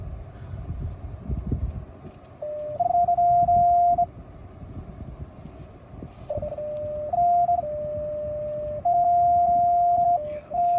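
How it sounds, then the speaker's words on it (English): Parking sensors on a 2024 Fiat 500e La Prima EV beep in a tight street, sounding as steady tones that shift in pitch and run in long stretches, broken by brief pauses, over low road and cabin rumble. "Sensors are going nuts."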